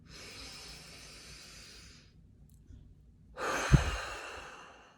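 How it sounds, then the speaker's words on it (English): A deep breath drawn in during a guided calming exercise, heard alone as two long airy breath sounds, the second stronger, with a soft sigh-like exhale and a brief thump near the end. "Add in a deep breath here."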